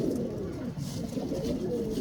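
A female pigeon in a breeder's loft coos close by, a low, throaty, continuous murmur of soft rolling coos with no break.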